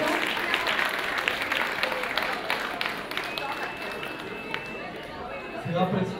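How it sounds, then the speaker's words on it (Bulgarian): Audience applause at an anime expo K-pop award ceremony, a dense steady patter of clapping from a crowd with chatter and a speaking voice mixed in throughout. "Аплодисменти, моля."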